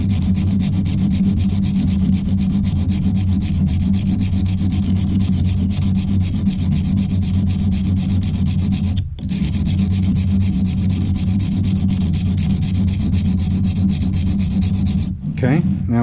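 A file rubs steadily over a silicon carbide stone being flattened, rapid rasping strokes sounding close and loud, broken by two short pauses.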